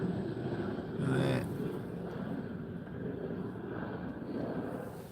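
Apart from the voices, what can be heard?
airplane flying overhead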